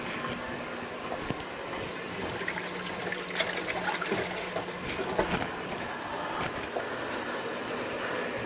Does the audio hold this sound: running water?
yes